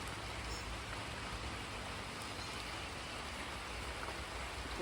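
Steady rain falls outdoors in the Thai rainy season, a continuous even hiss of drops on surfaces with no talking.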